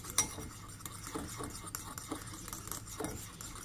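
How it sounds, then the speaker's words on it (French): A spoon stirs homemade face cream with aloe vera gel in a small bowl, a quiet continuous run of soft clinks and scrapes, close by and fairly faint. "j'ai mis mon gel, donc je remue maintenant"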